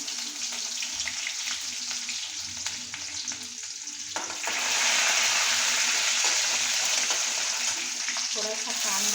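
Garlic and cumin sizzle in hot oil, a dense, steady crackling hiss close by that swells louder midway as more goes into the pan, with light stirring clatter and no clear speech.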